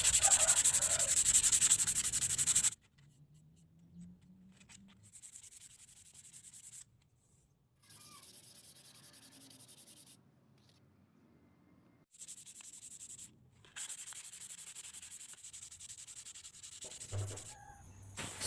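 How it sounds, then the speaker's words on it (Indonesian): Hand sanding a wooden pleci bird cage with 240 grit sandpaper, bursts of close, raspy rubbing strokes separated by quiet pauses, the last stretch longest and loudest. "baru saya gosok, dan saya menggunakan amplas grit 240. Kita amplas secara merata pada seluruh bagian."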